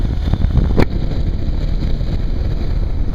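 Motorcycle riding along Route 262, a back road in Plymouth, Connecticut, a constant loud low engine drone buffeted by heavy wind noise, with one brief sharp burst partway through.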